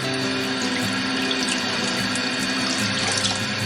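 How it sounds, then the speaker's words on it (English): Cold tap water runs steadily into a sink as fresh garden beets are washed for pickling, a constant close splashing stream with no voices. "A little cold water."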